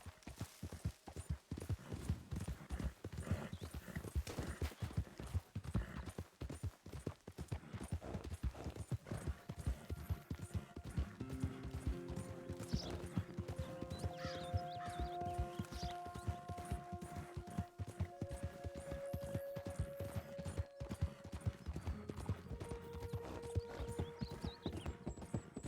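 Horse hooves clip-clopping in a video game, a continuous rapid rhythm of hoofbeats at a steady pace for the whole stretch, with sustained tones layered in the background partway through.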